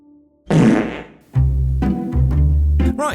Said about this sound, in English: And whilst you don't think farting is funny,